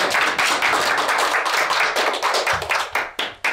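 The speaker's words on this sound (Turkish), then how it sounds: "alkışlarla davet ediyoruz" A small group at a quiz contest claps, loud and close, with the clapping thinning out into a few final scattered claps at the end.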